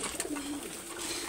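Caged pigeons coo softly with low, throaty murmurs against a background hiss, the calls overlapping in a short, continuous stretch.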